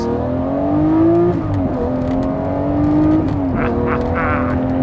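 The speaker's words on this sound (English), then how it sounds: "A naturally aspirated V12 is a very, very special thing" A naturally aspirated Lamborghini V12 engine revs hard and loud up close, its pitch climbing and dropping in two sweeping pulls, with brief crackles as it settles back.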